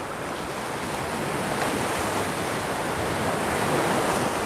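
Sea waves wash steadily at Can Picafort beach in Mallorca, a broad continuous rushing surf with wind noise and no voices.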